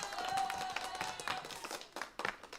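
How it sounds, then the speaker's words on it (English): Scattered live-stream applause of a few claps and taps, fairly faint and uneven, with a brief tonal sound near the start and no talking. "We have the applause."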